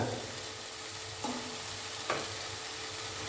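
Kabuli chana masala with spices sautés in a pan, giving a steady, loud sizzle. Two brief scraping stirs break through the hiss, and no voice is heard.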